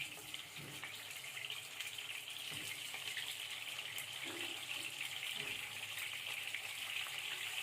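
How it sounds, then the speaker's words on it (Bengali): Constant sizzling hiss of chicken pieces frying in hot soybean oil, steady and fairly close, with a few soft knocks and clinks underneath. "তেলটা গরম হয়ে আসলে একে একে দিয়ে দিব মুরগির পিসগুলো"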